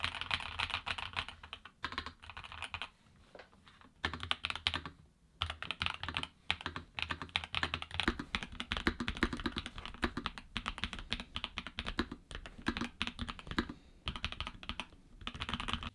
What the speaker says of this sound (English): You might have noticed that the sound profile of the keyboard varies depending on how many accessories you've got connected to it